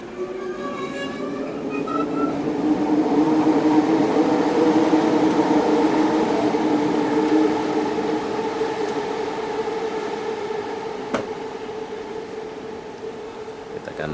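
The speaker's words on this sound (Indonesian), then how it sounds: "Kita akan naik LRT Pasar Seni." A light rail train at Pasar Seni station gives a rising and fading tonal hum with rumble as it moves through, swelling in the middle and easing off, with one brief sharp click near the end.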